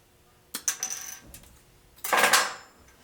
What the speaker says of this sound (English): I use diagonal cutters, cut it off.